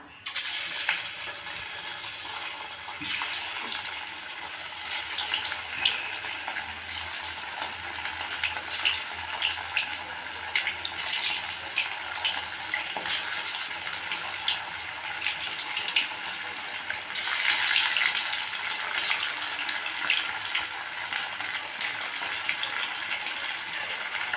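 Fish fries in a wok of hot oil with a loud, steady, dense sizzle and crackle that lasts throughout. It swells a little toward the end, with no speech over it.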